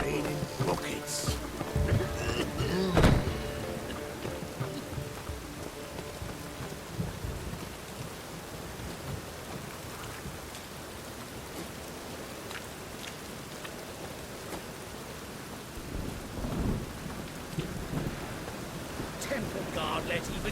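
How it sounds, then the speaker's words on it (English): Heavy rain pours steadily in The Witcher 3, with rolling thunder swelling early on and again later, a dense close wash of downpour throughout while voices speak over it. "It's raining buckets."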